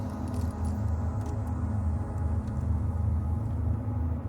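Car keys jingle faintly in the ignition as it is switched off, light metallic clinks over a steady low hum inside the car.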